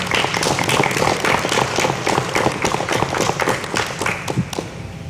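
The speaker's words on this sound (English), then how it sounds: "I'd like to give him a round of applause." A room of attendees at a county school board meeting gives a round of applause, dense steady clapping close by that continues for several seconds without talk.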